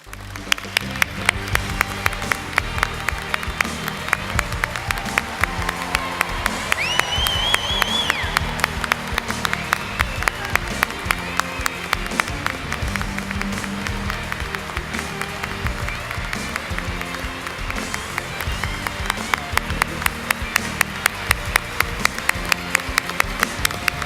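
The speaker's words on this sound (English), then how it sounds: "Please give a warm round of applause" An audience at the 2016 YMCA Hall of Fame induction ceremony gives long, steady applause, the dense clapping holding a regular pulse over a background of music.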